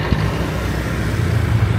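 Road traffic in Barangay Lumbia, Cagayan de Oro, a continuous rumble of passing cars and other vehicles at moderate distance, steady and unbroken with no talk.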